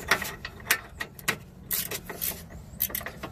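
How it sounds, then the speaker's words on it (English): Ratcheting wrench working an 18mm bolt on a 2005 Chevrolet Malibu Maxx control arm, a run of quick, close metallic clicks in short uneven bursts with brief pauses between strokes, no voices. "A ratcheting wrench is going to be the easiest way to get this right here out."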